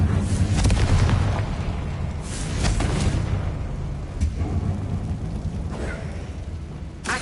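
Confringo blasting spell explosions in Hogwarts Legacy, a loud deep boom at the start followed by several more bursts and crackling blasts over a rumbling backdrop.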